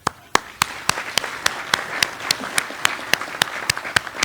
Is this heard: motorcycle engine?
no